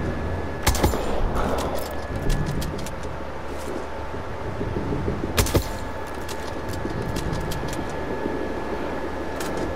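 Rifle gunshots in the video game Sniper Ghost Warrior Contracts: two sharp cracks a few seconds apart, loud over a steady rumbling game ambience with wind and distant vehicle-like noise.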